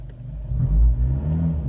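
A Fiat 124 Abarth in sport mode accelerates, its engine giving a deep, close rumble that swells briefly to a louder peak before settling into a steady drone, with no talking.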